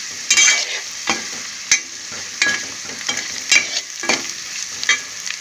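Onions seasoned with salt and chili powder frying in hot oil in a pan, with a steady close sizzle broken by repeated scraping stirs of a spoon, several sharp bursts across the stretch and no talk.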